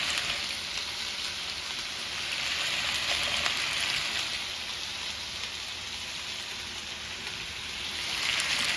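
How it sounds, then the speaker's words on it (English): Chopped onion hitting a pan of browning curried meatballs, a steady loud hiss and crackle of frying fat that holds evenly throughout, close up. "I'm now going to add my onion to these."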